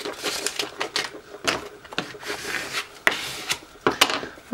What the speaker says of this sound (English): I like to kind of like press and peel it, just so make sure nothing comes up.